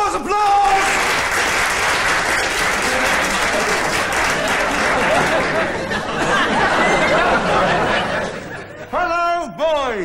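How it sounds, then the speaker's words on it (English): An audience in a school hall breaks into sustained, dense applause mixed with chatter and scattered laughter, easing off near the end as voices take over. "Applause, applause!"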